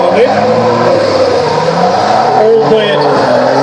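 Drift cars racing at Archerfield, engines droning and revving steadily at a distance throughout, with a commentator talking over the continuous motor noise.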